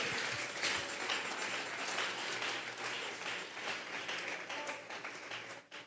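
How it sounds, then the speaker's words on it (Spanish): A church congregation claps steadily in a large room during a Bible study service, a dense wash of applause that holds for several seconds before tapering off. "Vamos a regalarle ofrenda de palmas al Dios de la gloria."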